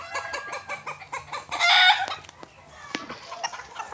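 Chickens cluck and a rooster crows on a poultry farm, with rapid repeated clucks and a loud crow rising through the middle, then scattered softer clucking and calls close by.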